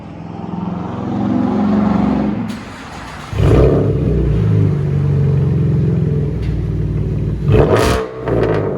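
A 2014 Chevy Camaro V6 with true dual straight-pipe exhaust revs loudly up close, a sustained raspy rumble that dips briefly and then climbs again in repeated throttle blips.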